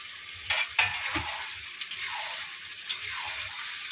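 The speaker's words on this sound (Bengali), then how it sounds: "মেটেগুলো দিয়ে ভালো করে কষিয়ে নেবো আলুগুলো ভেজে নিয়েছিলাম আলুগুলো একসঙ্গে দিয়েই কষাবো" Goat liver and fried potatoes stir-fried together in a pan: a steady sizzle with scraping, clinking stirs near 0.5, 0.8, 1.2 and 2.9 seconds, close and moderately loud, with no voices.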